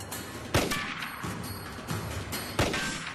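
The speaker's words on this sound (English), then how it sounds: "I heard gunshots." Sharp gunshots ring out in a short series, three loud cracks spaced apart outdoors with metallic echo between them.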